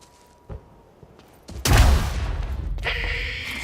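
Gunfire in the video game Quantum Break: a sharp shot, then a loud burst of overlapping rapid gunfire with a rumbling boom, continuing as a sustained barrage close by.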